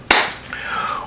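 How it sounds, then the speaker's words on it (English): A single sharp, loud hand clap rings out close up at the start, followed by a fading tonal ring in a quiet room. "That was a loud clap."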